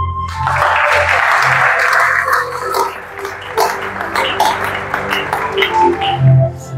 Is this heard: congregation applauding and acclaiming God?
yes